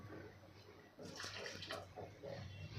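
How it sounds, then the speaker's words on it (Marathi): A glass of hot water is poured into a pan of double bean curry, giving a quiet splashing, gurgling pour that starts about a second in and continues to the end. "साधारण इथे मी एक ग्लास गरम पाणी घातलेलं आहे"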